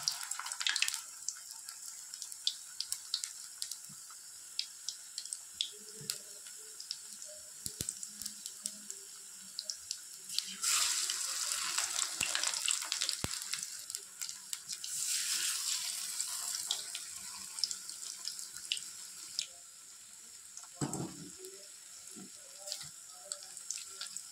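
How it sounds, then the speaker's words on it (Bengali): Rolls sizzle in hot oil in a wok with a soft, bubbling hiss that swells and fades in uneven waves, with occasional light clinks of utensils nearby. "এখন আমি এই যে একটা করে রোল ছেড়ে দেব"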